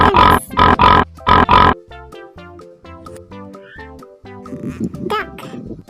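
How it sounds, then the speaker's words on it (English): A hippopotamus gives three loud, deep grunting bursts in quick succession, followed by a stretch of light music with faint childlike vocal sounds. "Hippopotamus."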